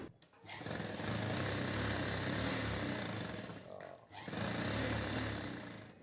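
A sewing machine runs steadily, stitching a child's silk pattu pavadai skirt, with a brief pause near the four-second mark before the stitching resumes just as loud and close.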